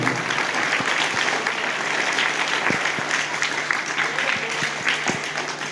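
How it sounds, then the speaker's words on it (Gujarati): An audience at a village primary school book distribution event claps loudly and continuously, a dense, steady burst of applause that fills the whole stretch. "એમના માટે પણ એક જોરદાર તાળી છે"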